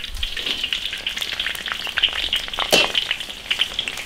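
Pork belly is deep-fried a second time in very hot oil in a wok, giving a steady close bubbling sizzle with crackling pops throughout.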